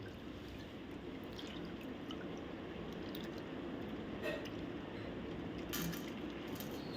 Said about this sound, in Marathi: चणा डाळ व्यवस्थित पाण्याखाली धुवून घ्या.